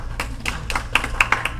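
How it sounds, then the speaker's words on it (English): A small senior-center audience claps in a short patter of scattered, close hand claps that grows a little brisker toward the end. "We're getting applause from the chicks."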